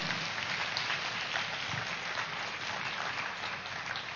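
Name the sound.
applause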